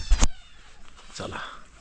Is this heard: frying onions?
no